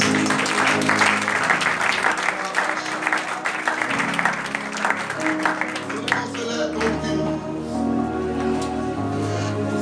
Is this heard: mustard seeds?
no